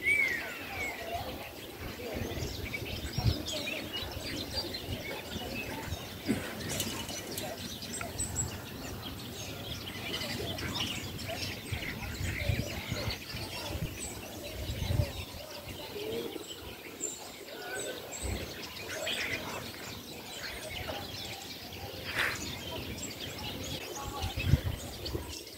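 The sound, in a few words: birds singing in a quiet city centre on Sunday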